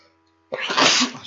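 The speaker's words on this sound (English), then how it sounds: "every time I try to cough or sneeze when I'm doing a video" A single sneeze bursts out loud and close after a moment of near silence, a sharp intake followed by a broad, breathy explosion that trails off quickly.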